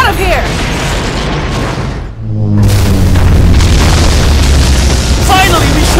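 A loud, broadband explosion roars in the Transformers Human Alliance arcade shooter as an enemy is shot down, a sustained booming rumble with a brief dip before the blast swells again, under game voices.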